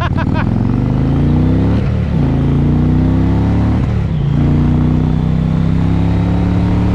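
Indian Challenger motorcycle accelerating hard on a highway in a rolling drag race, its engine loud and close with rising revs broken by two quick gear shifts, a steady roar throughout.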